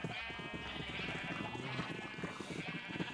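Sheep bleating in Minecraft, a run of game animal calls in steady succession, moderately loud and close, with no talking over them.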